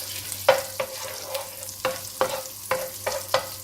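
Slit green chillies dropped into hot oil in a pan for butter chicken, giving a steady close sizzle broken by several sharp clacks of a spoon stirring against the pan, with no voices.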